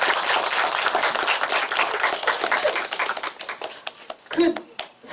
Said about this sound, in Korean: 큰 박수를 한번 주시면서 더 말을 잘하실 수 있게 용기를 불어넣어주세요